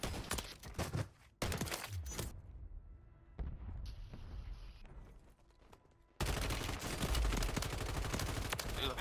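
Gunfire in an online multiplayer shooter game: loud bursts of rapid shots in several clusters, with a lull of quieter game ambience in between before heavy firing resumes.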